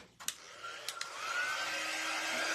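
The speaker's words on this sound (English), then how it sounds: "let me grab my dryer" A hair dryer switches on to dry a craft project, with a few clicks and bumps before a steady, close, whooshing airflow takes over and holds at an even level.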